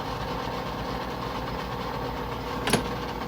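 Metal lathe turning a workpiece at 200 RPM with an ISCAR carbide turning insert, giving a steady, continuous mechanical hum and grind and one brief sharp tick near the end.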